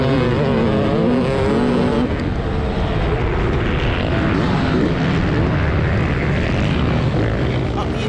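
Two-stroke motocross bikes racing, including a 2024 Honda CR500 two-stroke, a loud continuous engine roar with shifting pitch under a commentator's voice throughout.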